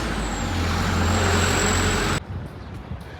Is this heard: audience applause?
no